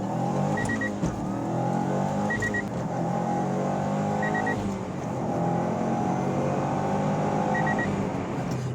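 A 2006 Subaru WRX STI accelerates hard, its engine note climbing through the gears with repeated rising sweeps and brief shift pauses, loud and close throughout.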